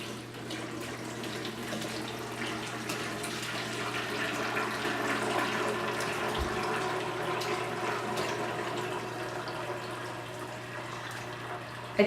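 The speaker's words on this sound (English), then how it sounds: "we're just going to start pouring all this liquid in" Homemade chicken stock pours steadily from a pot through a strainer, a continuous close splashing stream of liquid running alone for several seconds.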